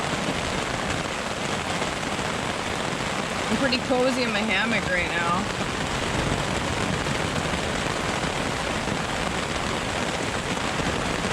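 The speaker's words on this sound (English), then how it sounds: "This storm's wild. I don't even know if you can hear me over the rain." Steady heavy rain from a storm drums close by throughout in the wilderness, with someone speaking briefly over the downpour.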